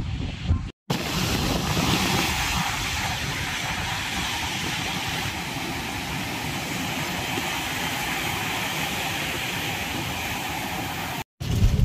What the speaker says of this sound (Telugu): గాలి సౌండ్ చూసారా ఎలా అనిపిస్తుందో